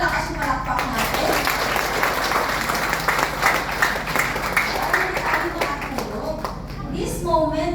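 An audience applauds at a company leaders' event, with dense sustained clapping from a crowd that runs throughout, close and loud, with voices mixed in.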